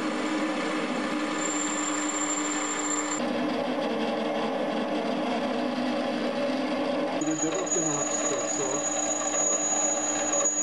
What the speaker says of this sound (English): Now it's time to machine the nozzle oversleeve. We made this from a 42mm aluminium bar stock.